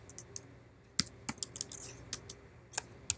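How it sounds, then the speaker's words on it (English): Quiet, irregular keystrokes on a computer keyboard tap out a date, a dozen or so light clicks with uneven gaps, close to the microphone. "here is where I'm going to type the date"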